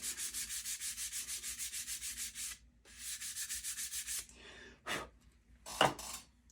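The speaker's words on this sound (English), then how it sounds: "Not doing much sanding. Just enough to scuff the knife scale." Knife handle scales are sanded flat with rapid, regular back-and-forth rasping strokes. A steady run is followed by a second run and then a few slower, separate scrubs, close and moderately loud.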